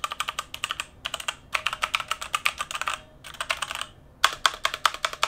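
Typing on a MOTOSPEED CK62 60% mechanical keyboard with red switches, about 2.5 feet from the mic: rapid bursts of clacky keystrokes with a slightly tinny edge, broken by short pauses, heard alone.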